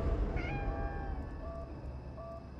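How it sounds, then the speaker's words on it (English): A black cat in the Conarium horror video game gives a couple of drawn-out, tonal meows over a low, rumbling ambient background. "A black cat."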